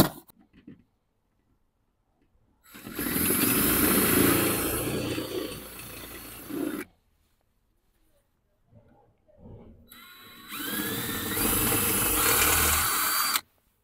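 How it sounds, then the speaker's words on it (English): A power drill bores out pop rivets on a VW Polo front passenger door during a window repair, running in two loud, sustained bursts of several seconds each with a pause between them. "I have to drill out"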